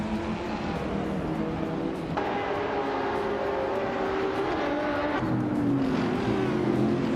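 Lamborghini Huracan Performante racing around the Hungaroring, its engine droning loudly and steadily with pitch shifts through gear changes and acceleration, a continuous close-up roar with no voices.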